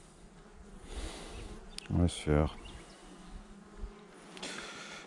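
Honeybees swarming around a brown hive box at a springtime apiary, a soft steady buzz underneath, with someone talking at the end and two short loud bursts of handling noise near the middle.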